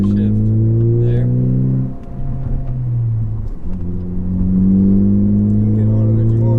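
A 2018 Ford Focus ST engine revs loud and close, the pitch climbing, dropping abruptly at a gear change, then climbing again; a voice speaks briefly.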